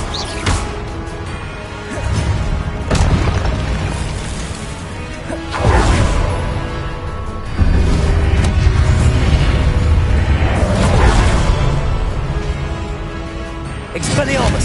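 Several explosive spell impacts in a wizarding school action game, loud crashing booms and whooshes at uneven intervals over continuous battle noise, with voices shouting through.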